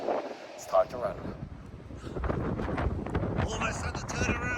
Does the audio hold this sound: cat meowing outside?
no